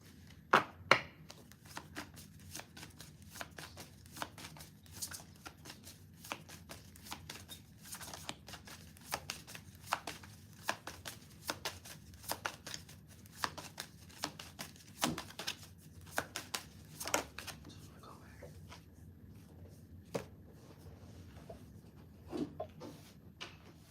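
Oracle cards being shuffled by hand for a reading, a steady run of soft riffling slaps and flicks with sharper snaps scattered throughout, close and fairly quiet, with no talking.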